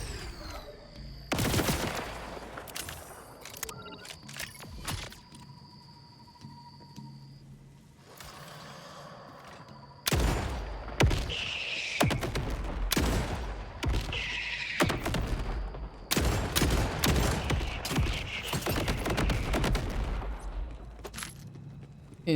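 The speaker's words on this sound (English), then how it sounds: "I do love a good old-fashioned shootout." Bursts of rapid gunfire and booming shots crackle through a shootout in the video game Borderlands 4, coming in clustered volleys separated by brief lulls and growing denser toward the end.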